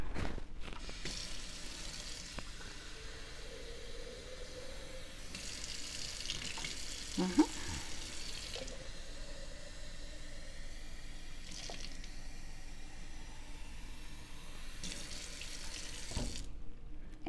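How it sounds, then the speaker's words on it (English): Tap water runs into a container for watering radish seedlings, a steady hiss and splash that swells and eases in bursts, close by and moderately loud. "So we will get some water to put in here."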